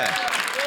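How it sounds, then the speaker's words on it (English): Studio audience applause during a televised stand-up comedy set, a loud dense burst of clapping from a crowd, brief and sustained throughout. "the only time anyone's ever applauded for that"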